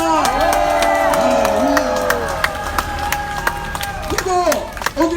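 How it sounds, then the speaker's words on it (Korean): Scattered claps from a crowd at an outdoor political rally in Gwacheon, sharp pops spread over several seconds beneath a sustained amplified voice and tonal drone. "여러분 우리 정광훈 목사님 위해서 축복의 박수를 부탁드리겠습니다."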